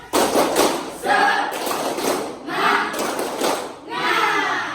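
A standing classroom group performs the rhythmic 'tepuk semangat' clapping chant, loud bursts of patterned claps and shouted voices repeating in several rounds over about five seconds.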